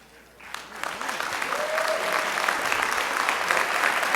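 Applause from an awards-ceremony audience builds quickly and holds steady as a dense, fairly close wash of clapping, with faint voices underneath.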